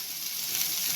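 Chopped onion frying in oil in a pan, a steady soft sizzle with a watery hiss that holds evenly throughout, close and fairly quiet, with no voices.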